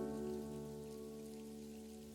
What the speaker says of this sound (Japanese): にわかに雨が降ってまいりました。